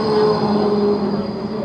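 Swiss tram number 8 pulls in from the German side near the Swiss border, a steady close rumble with a sustained electric whine and a slowly fading roll as it arrives.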